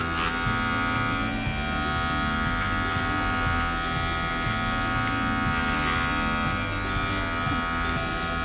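Electric clippers trimming a poodle's feet and toe webbing, a steady close buzzing hum with a slightly pulsing motor rhythm throughout.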